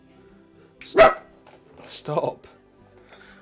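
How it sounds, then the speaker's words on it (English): A pet dog gives a couple of sharp barks indoors, close and fairly loud, while someone speaks briefly over and around them. "sorry if you hear the dog barking"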